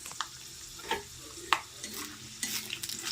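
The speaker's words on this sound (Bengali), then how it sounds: "আমি এবার বাদামগুলোকে ভেজে নিচ্ছি।" Oil crackles and sizzles steadily as peanuts fry in a pan, with a few sharp scraping stirs and clinks on top, close and fairly loud.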